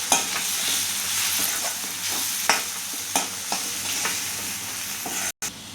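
Chickpea masala sautéing in a pan with red chili powder, coriander powder and garam masala, a steady close sizzle broken by repeated scraping stirs and a few sharp spoon knocks, no voices.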